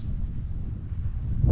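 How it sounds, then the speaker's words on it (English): Wind gusts across an open outdoor spot near the water on a rainy morning, a steady low rumble of buffeting against the microphone, loud and close throughout, briefly swelling near the end. "A little windy."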